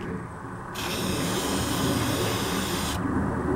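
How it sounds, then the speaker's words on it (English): Aerosol spray paint hissing onto a Warhammer 40k Vindicator tank model, a loud continuous close-up spray burst of about two seconds, with softer hiss before and after. "we're just trying to spray as quickly as we can across everything"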